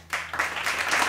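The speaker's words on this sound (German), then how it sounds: "Applaus." Short burst of applause, a steady hiss-like wash of clapping that swells in a few waves after a brief quiet start, following a jam session over a backing track.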